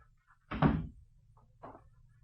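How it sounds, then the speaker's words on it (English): A door closes in an old-time radio drama, a single solid thump followed about a second later by a softer knock, set against a low steady hum with no voices. "Close the door."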